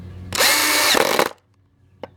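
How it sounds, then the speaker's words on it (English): A power drill drives a screw into a wooden base platform for garden pottery art: one loud close burst of about a second, a brief pitch change near its end, then a faint tap. "putting these screws in"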